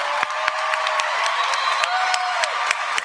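Applause and cheering from a crowd at a 2015 Utica College undergraduate commencement, with crisp claps over a continuous wash of voices and whoops.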